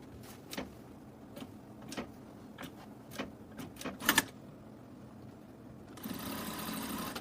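Sewing machine stitching a jacket pocket: scattered close clicks and short mechanical knocks, then a brief rapid burst of stitching followed by a steady whirring run at the end, fairly quiet, no talking.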